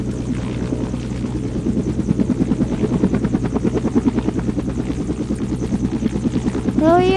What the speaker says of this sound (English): slow down the helicopter